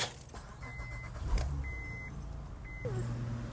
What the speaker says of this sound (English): Now I'm gonna start the truck.